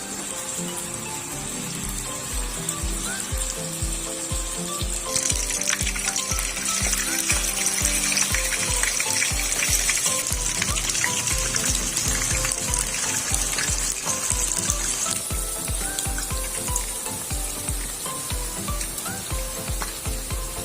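Corn fritters (ukoy) frying in cooking oil make a bright, hissing sizzle that swells in the middle, set against a steady thumping music beat that runs the whole time.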